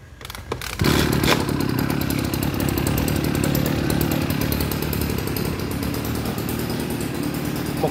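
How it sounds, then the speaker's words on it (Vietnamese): One of a pair of Echo chainsaws in flawless condition starts and revs into a loud, steady, buzzing run that holds at near-constant intensity after a brief sputtering start, close to the microphone and with no talk over it. "em khèo lên cho mấy bác nghe tiếng máy"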